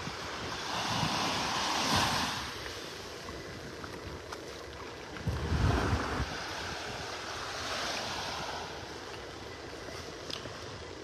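Ocean surf breaks on a beach in North Naples, Florida: a steady, broad wash of waves with gentle swells in loudness and some wind rumble on the microphone, with no one speaking.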